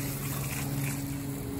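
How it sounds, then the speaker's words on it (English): Water being poured into a container while setting up a pink oyster mushroom grow: a steady, moderately loud gush with a faint low hum underneath, and no talking. "So just putting the second load of this water in here."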